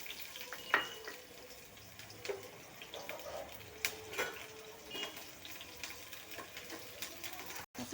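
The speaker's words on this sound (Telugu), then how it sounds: "సో కరివేపాకు, పుదీనా వేసేసి కొంచెం ఫ్రై చేసుకోండి." Green chillies, onions, curry leaves and mint frying in a little oil in a pan, a soft steady sizzle broken by stirring scrapes and faint water sounds, no talking.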